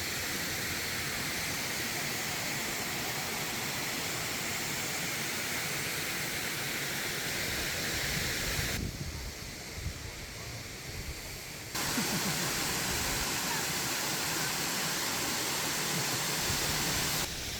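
The waterfall at Desoto Falls State Park gives a constant broadband roar of falling water. It dips briefly about midway and then returns at full strength.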